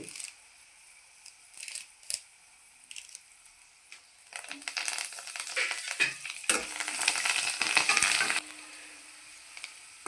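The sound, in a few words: curry leaves sizzling in hot oil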